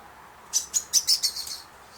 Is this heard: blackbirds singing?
yes